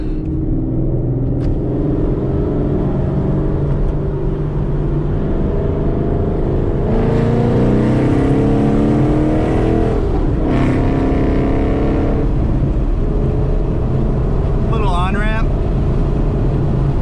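Ford Mustang GT 5.0 fitted with a Lund Racing ghost cam tune rumbles and revs in stop-and-go traffic, a steady lopey idle swelling into louder rev bursts mid-clip, with voices talking over it.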